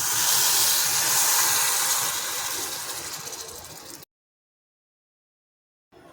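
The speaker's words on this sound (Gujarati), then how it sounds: "હવે આપણે વઘારને કઢીમાં એડ કરીશું" Tempering (vaghar) poured into Gujarati kadhi: a loud, sharp hiss and sizzle that slowly fades over about four seconds, then stops abruptly into silence.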